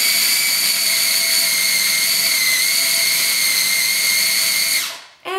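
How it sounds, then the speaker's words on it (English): A food processor grinding cilantro with oil and salt, a loud, steady, high whine running close and continuous for nearly five seconds before spinning down and stopping. "now we're gonna process the cilantro with the oil and the salt. And we're just gonna grind it up."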